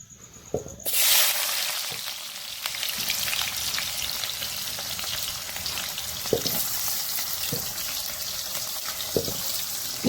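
Onions dropped into hot oil burst into loud, steady frying and sizzling that carries on throughout, with a few sharp clicks and clatters from the pan along the way.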